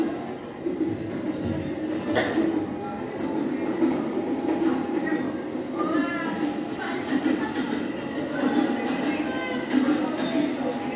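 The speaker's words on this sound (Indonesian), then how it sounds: "jadi seperti ini ya kondisinya ketika kereta lewat melintasi" A train rumbles over a road crossing at moderate distance with a steady low roar, faint rattling and occasional metallic squeals, background chatter mixed in.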